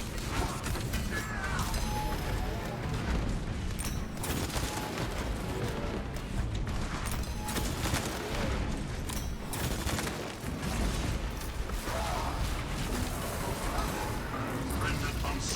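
Gunfire and a stun grenade in a Warhammer-style video game using a Deathwatch Stalker bolt rifle, with a continuous rattle of shots and mechanical clatter under in-game voice lines.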